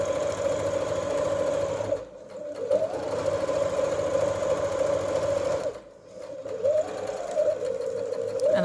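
A sewing machine runs steadily while it stitches slippery satin fabric for a kimono underarm seam. The motor whirs and hums loudly and close up, with two brief pauses between runs, and nobody talks.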